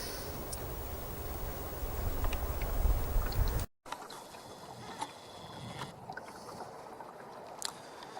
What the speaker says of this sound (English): all the Creel boats that are dashing around in the fog. So just using my ears, listening for engines